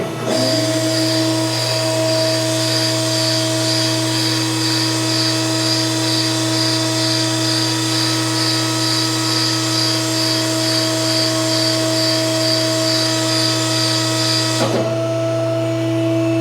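Hydraulic mandrel tube bender with the pressure die in, making the final bend on 2x3 drag car back half tubing: a loud, steady machine drone and hum with a high whine, holding level, then a brief clunk near the end.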